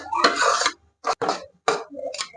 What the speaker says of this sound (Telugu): ఇలా కలుపుకుంటూనే ఉండాలి